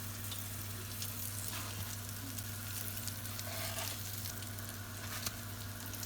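Aubergine slices sear in a hot pan with a steady, even sizzle and a constant low hum in the background, and no one speaks.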